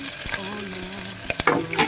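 Garlic, green chili and onion sauté in a pan, a close sizzle broken by quick stirring scrapes and clatters of a spoon.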